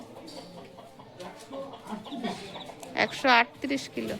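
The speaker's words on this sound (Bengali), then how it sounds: "ও মোরগ গুলো কোথায় ডাকছে রে কক কক করে?" Chickens cluck and roosters call nearby at night, short repeated calls rising toward the end, mixed with people talking.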